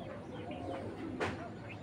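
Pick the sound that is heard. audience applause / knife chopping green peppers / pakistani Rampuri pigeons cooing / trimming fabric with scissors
pakistani Rampuri pigeons cooing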